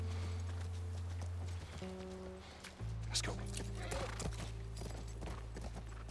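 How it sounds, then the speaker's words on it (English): A horse in The Last of Us Part 1 game: hooves clip-clop at a walk and a short whinny sounds amid rain-like game ambience and a low steady hum, with a voice speaking briefly. "That's our horse."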